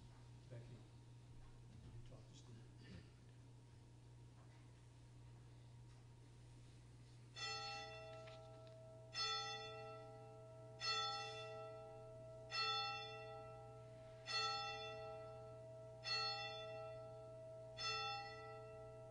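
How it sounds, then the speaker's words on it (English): A church bell tolls six slow, evenly spaced strokes, each ringing out and fading, after a quiet stretch with a low steady hum underneath. "join me in a moment of silent prayer and the ringing of the bell"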